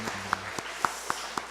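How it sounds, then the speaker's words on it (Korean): Sparse applause in a church service, a few scattered claps spaced across a short moment in a reverberant hall, fairly faint. "박수로 격려하겠습니다"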